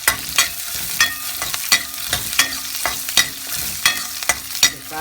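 Vegetables with onion, garlic and green chilies saute in a hot pan, a steady sizzle broken by regular scraping stirs of a spoon, close and clear with no talk.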